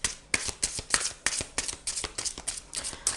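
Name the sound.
shuffling oracle cards before drawing one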